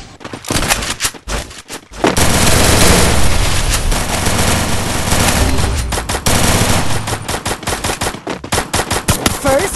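Rapid gunfire from a mobile shooting game: loud bursts of automatic fire and single shots, dense and continuous from about two seconds onward, with sparser cracking shots at the start and end.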